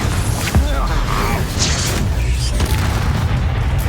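A deep booming blast from the Confringo explosive spell in Hogwarts Legacy rumbles amid creaking, clattering combat noise, with a sharp impact early on and a low, sustained roar afterward.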